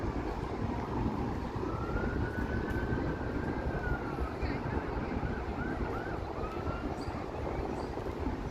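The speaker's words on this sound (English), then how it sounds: "All kinds of sirens going on over there." A distant siren wails faintly over steady traffic rumble in downtown Toronto, its rising and falling tone drifting in and out across the background.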